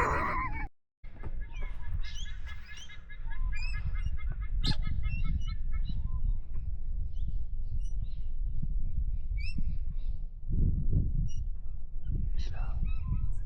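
Yellow and red parrots call at a camping spot near Hervey Bay, Australia, giving repeated harsh squawks and honking cries, some near and loud, others farther off, over a steady outdoor background.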